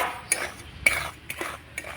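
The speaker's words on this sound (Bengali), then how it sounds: "একটু শুকনো খোলায় নাড়াচাড়া করে দু মিনিটের মতো ভেজে নেব" Semolina is stirred in a dry pan, a spoon scraping and tapping against the metal in four or five soft, evenly spaced strokes, close by and fairly quiet.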